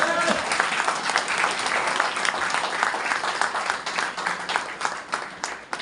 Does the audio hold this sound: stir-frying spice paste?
no